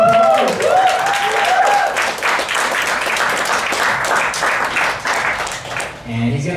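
An audience applauds a pastor introduced as a speaker at a purity education event, a loud, dense wash of clapping that runs steadily for several seconds, with voices talking over it throughout and fading near the end.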